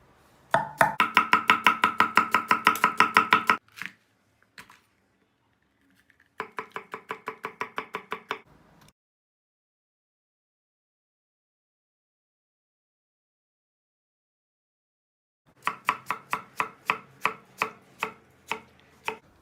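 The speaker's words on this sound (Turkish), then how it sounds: "Hemen lahana yemeğimizin soğanlarını doğrayalım" Rapid, steady knife strokes chopping onions on a cutting board in three bursts separated by long silent pauses, each chop a crisp close tap.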